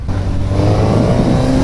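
A Suzuki GSX-S 950 motorcycle engine accelerating, a loud close steady drone that climbs slightly in pitch over a short burst.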